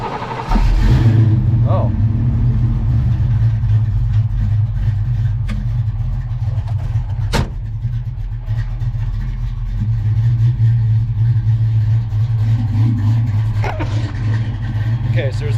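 A Foxbody Ford Mustang fitted with a substitute engine computer fires up and settles into a steady, loud, rumbling run close by, while a person speaks briefly over it.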